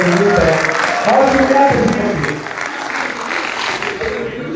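An audience claps for a speaker, dense steady applause with crowd noise that slowly thins, while someone talks loudly over it.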